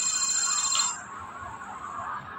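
A multifunction izakaya light device sounds a high, piercing electronic alarm tone that cuts off after about a second, leaving a fainter lingering whine over steady background hiss.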